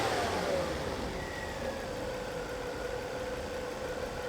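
A Volvo S40 engine settles from about 3000 RPM down to a steady idle, its pitch dropping at the start and then holding a constant close hum with no misfire heard.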